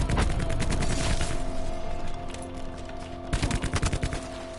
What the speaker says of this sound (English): Stop shooting me with a fucking rampart